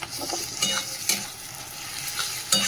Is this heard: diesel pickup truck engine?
no